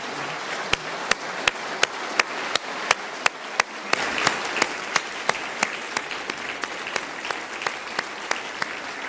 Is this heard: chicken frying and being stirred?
no